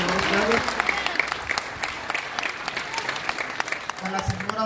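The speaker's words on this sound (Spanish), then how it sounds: "Fuerte los aplausos para los líderes del Andrés Chávez." A crowd at a Christmas food-basket giveaway in Tierra Blanca applauds community leaders. The clapping is a dense, steady roar lasting the whole stretch, with a few sharper claps and voices murmuring underneath.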